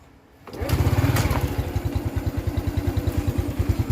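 An accident-damaged motorcycle engine starts and settles into a loud, close, rhythmic idle with a distinct, slightly uneven thumping beat.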